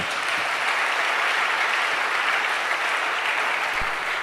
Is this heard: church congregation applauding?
yes